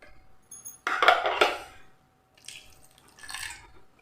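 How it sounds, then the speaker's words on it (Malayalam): A small amount of warm water is poured into appam batter ingredients in a kitchen vessel, two short splashing pours close up with a brief clink between them, quiet and without talk. "ഇനി ഇതിലേക്ക് നമ്മൾ ചെറിയ ചൂടുവെള്ളം, ഒരുപാട് ഒഴിക്കണ്ട"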